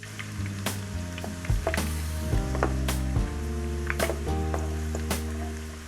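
Shallots fry in oil over low heat for Thai fried duck eggs, a soft steady sizzle broken by repeated scraping stirs and clinks of a utensil against the pan, with no talk.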